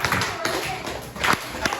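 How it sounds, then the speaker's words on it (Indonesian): A classroom gives applause for a student group, scattered claps and taps of uneven rhythm with a few louder bursts, while voices talk over them. "Kasih tepuk tangan untuk kelompok 4"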